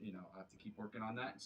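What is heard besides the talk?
No distinct noise like a dog, phone or traffic.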